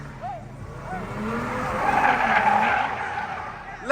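Tires on a Ford Mustang skid and squeal at a car meet. A long, loud screech rises and falls over a rumbling engine, with a crowd's voices mixed in underneath.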